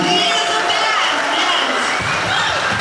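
A live audience at a Johnny Cash and June Carter tribute show applauds and cheers in a dense, steady roar, with a voice partly over the crowd noise.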